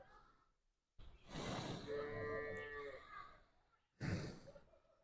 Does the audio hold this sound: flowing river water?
no